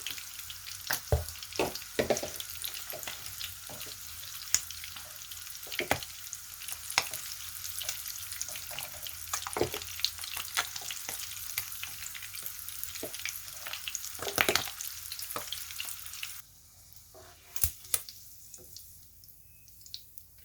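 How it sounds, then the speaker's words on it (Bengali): Pieces of hilsa fish roe sizzle and crackle in a thin layer of hot oil, with steady frying hiss and occasional stirring scrapes and clicks; the sizzle drops away near the end, leaving a few isolated clinks. "ডিমের পিসগুলি আমি এভাবে উল্টিয়ে একটু হালকা তেলের মধ্যে ভেজে নিয়েছি"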